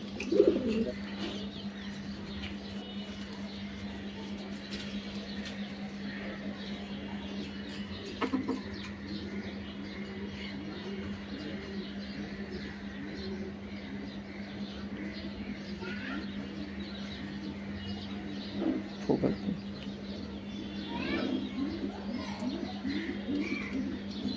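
Pigeons coo softly and repeatedly inside a pigeon loft, with occasional chirps over a steady low hum and faint background activity.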